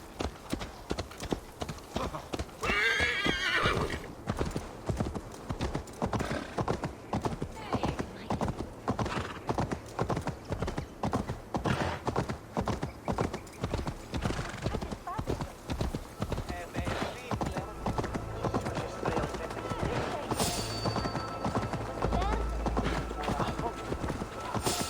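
Rapid, rhythmic clip-clop of horse hooves runs throughout, with a brief whinny early on, loud and close, while a person talks over it, in the video game Assassin's Creed Valhalla.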